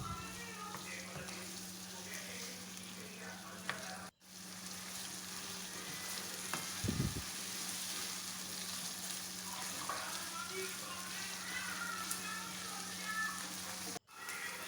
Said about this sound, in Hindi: अदरक के पेस्ट को हमने गोश्त के साथ अच्छी तरह से भून लेना है।